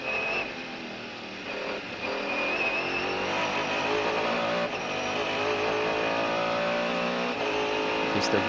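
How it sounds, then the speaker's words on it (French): Naturally aspirated Mercedes V8 race car screaming at full power on the approach to the second chicane at Le Mans, a sustained loud high-pitched engine wail, steady and close, with commentary talking over it. "Le V8 Mercedes atmosphérique en pleine puissance avant la deuxième chicane"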